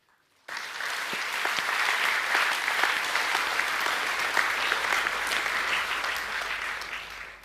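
Awards evening audience breaking into sudden, dense applause that starts sharply and holds steady and loud for several seconds, with no talk over it.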